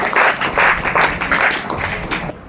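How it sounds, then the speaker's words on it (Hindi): A yoga session audience claps loudly in several bursts of quick, dense applause over about two seconds, then it cuts off. "जोरदार तालियां बजा दीजिए"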